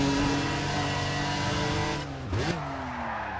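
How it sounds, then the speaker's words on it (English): Race car engine in Need for Speed ProStreet, with straight-cut gears and intake noise, drones loud and steady, then drops its pitch sharply at a shift and climbs again, with no voices. "the engine sound in this car kind of reminds me of, well, most race cars in Gran Turismo 4"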